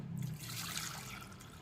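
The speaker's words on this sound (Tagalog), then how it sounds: "Tapos, lagyan natin ng tubig." Water pours steadily into a pot, a soft continuous splash and trickle, close by and fairly quiet.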